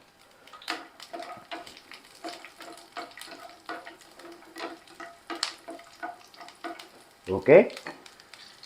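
Garlic and four broken green chilies sauté in hot oil for mint rice, giving a soft, steady sizzle broken by regular stirring scrapes and taps, with a louder clatter near the end and a brief spoken word.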